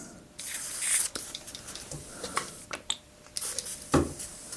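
A sputtering, uneven airbrush hiss that cuts in and out, with spitting bursts and faint clicks rather than a steady spray.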